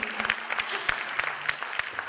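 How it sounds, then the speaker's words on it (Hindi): Scattered clapping from an audience at a ghazal concert, with sparse, uneven claps rising and falling over a faint hum in the hall. "तालियां एक बार और जोरदार बजा दीजिए"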